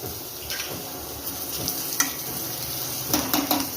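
Finely chopped onions hit a pan for a dill and green gram stir-fry, sizzling steadily close up with a couple of sharp clinks of a utensil against the pan.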